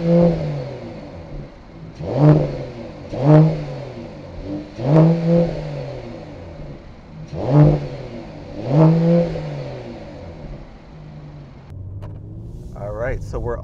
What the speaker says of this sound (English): I think it's time to hear the exhaust note